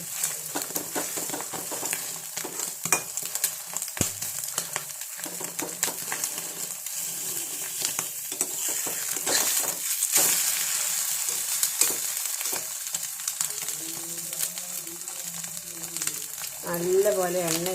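An egg fries with salt in a pan, a continuous crackling sizzle with stirring and scraping throughout, loud and close, while a voice talks over parts of it.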